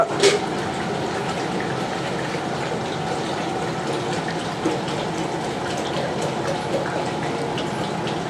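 Water pours and gushes steadily for several seconds from a bucket into a biryani pot, a continuous close splashing rush filling the container.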